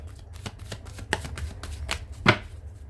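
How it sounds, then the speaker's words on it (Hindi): Tarot cards are shuffled by hand in a quick run of crisp riffling flicks and taps, close up, with one sharper snap near the end and no talk. "last shuffle Prabhu"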